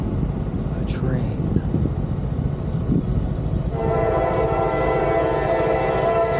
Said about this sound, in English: it looks like we're gonna be running into a train.